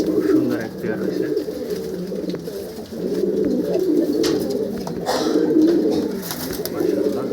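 A breeding pair of pigeons, a cobra cock and a brown-throated hen, coo steadily and close by in a loft, with soft layered coos throughout and a person talking over them.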